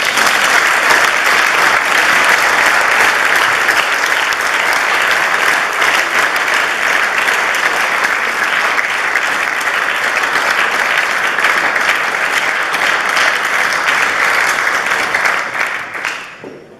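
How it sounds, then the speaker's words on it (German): A municipal community-day honours ceremony in Lieboch ends with a large audience applauding steadily, the dense clapping holding for about sixteen seconds before it starts to die away at the end. "Und dafür gebührt euch noch einmal einen riesen Applaus"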